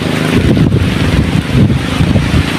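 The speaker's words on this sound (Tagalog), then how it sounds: "ipo-ipo ata to guys Taas ng hangin" Strong whirlwind-like wind roars and buffets the microphone continuously, a loud, rumbling gusty rush with no clear pauses.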